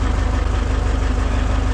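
A Soviet tractor engine runs steadily during logging, a loud, continuous low diesel rumble close by with no voices.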